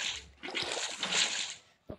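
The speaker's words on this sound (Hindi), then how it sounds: "हाँ चलो यहाँ पर मेरे को पानी बस डाल देना है" Water poured onto farmland in Minecraft makes steady splashing and sloshing for most of the stretch, then fades, followed by a short separate splash at the end.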